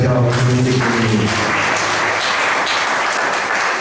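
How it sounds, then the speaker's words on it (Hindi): A church congregation claps loudly and steadily for the music at a Hindi worship service, with a dense wash of applause filling the space and faint musical tones fading under it at the start. "एक बार जोरदार ताली बजाओ म्यूजिक के लिए।"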